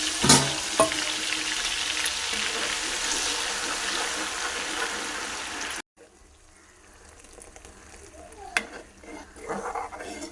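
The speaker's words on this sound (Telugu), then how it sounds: "ఆయిల్లోనే అల్లం వెల్లుల్లి పేస్ట్ వేసుకొని పచ్చివాసన పోయేదాకా ఫ్రై చేసుకోవాలి" Ginger garlic paste frying in hot oil, sizzling steadily and close with stirring scrapes, then cutting off abruptly into quieter clinks and faint stirring.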